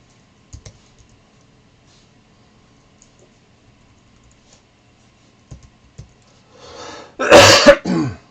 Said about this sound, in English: Sorry for the coughing there.